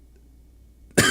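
A single sharp cough bursts out near the end, loud and close after a second of near silence.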